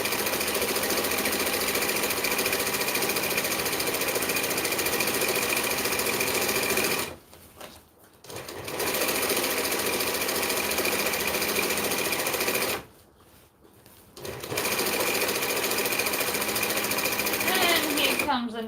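A sewing machine stitches a fabric shade sail in long continuous runs, loud and steady, stopping twice briefly before starting again.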